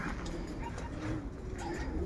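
Racing pigeons in an aviary coo softly in low repeated murmurs, close and fairly faint, over a steady background hum.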